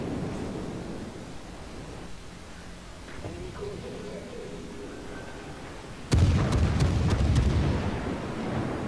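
Naval guns fire in World of Warships during a match with the cruiser HMS Emerald, a sudden loud boom with a rumbling tail coming after a stretch of quieter engine and water noise.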